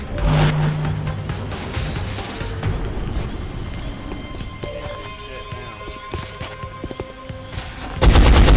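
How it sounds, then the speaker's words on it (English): Gunfire in the strategy video game XCOM: Enemy Unknown, with scattered shots and bursts over a busy, noisy battle backdrop, ending in a louder, sustained blast. "Incoming fire!"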